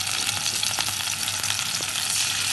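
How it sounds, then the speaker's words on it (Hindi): Steady crackling sizzle of garlic ginger paste frying in hot ghee in a karahi, close and continuous, with faint stirring scrapes and no voices. "हल्का सा इसको फ्राई करेंगे।"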